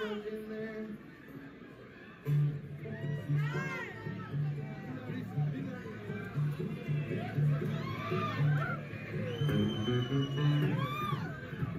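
Loud crowd chatter at a concert, a dense mass of voices with shouts and whoops, a nearby voice talking over it.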